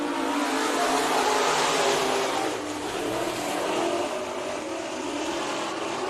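Race cars roar around the Bakersfield Speedway during a heat race, a loud, steady engine drone with rising and falling revs as the field circles, continuous throughout with no talk heard.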